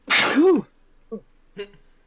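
One loud, close sneeze bursts out, followed by a couple of soft breathy sounds.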